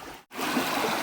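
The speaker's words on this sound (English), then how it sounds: "Beautiful river." A river along the Foothills Trail rushes in a steady, close, soft wash of flowing water, interrupted only by a very brief dropout before the flow resumes evenly.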